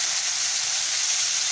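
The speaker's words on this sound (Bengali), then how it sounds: "একটা একটা করে ভেজে নেব" Tilapia fish frying in hot oil in a wok, giving a steady, dense hiss that holds evenly at moderate loudness for the whole moment with no talk.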